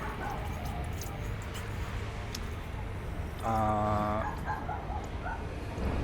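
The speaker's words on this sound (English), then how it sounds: "my dog is upset about something" An upset dog barks and whimpers somewhere in the room, a cluster of sharp yips rising mid-way above a steady background hum, fairly loud and close.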